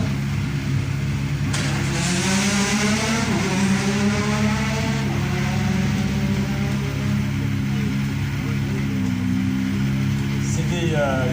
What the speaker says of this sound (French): Une Hyundai i20 R5 qu'il pilote pour la deuxième fois seulement.